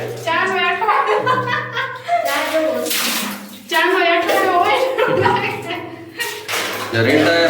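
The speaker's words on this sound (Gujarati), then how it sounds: "પાણી ઉલેચવાનું ચાલુ કરી નાખ્યું છે" Muddy water is scooped and splashed out by hand in repeated sloshing bursts, close by, while several people talk loudly over it throughout.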